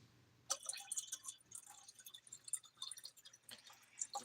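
Liquid scooped with a glass is poured back into a bottle: quiet splashes, drips and short trickles come in irregular bursts, close and faint.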